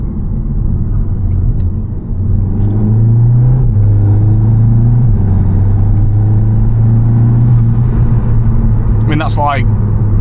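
A car in sport mode at 20% throttle drones with a low, steady engine note that climbs a step partway through, with a voice talking over it.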